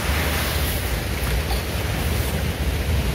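Surf at a beach in Tegal makes a constant, loud rushing roar, unbroken and mixed with wind buffeting the microphone, with no voices.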